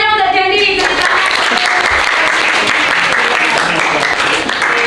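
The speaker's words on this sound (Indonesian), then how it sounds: "Tepuk tangannya untuk Dendi." A classroom of students claps together for a classmate, dense steady applause filling the room, loud and close, with a brief teacher's voice at the very start.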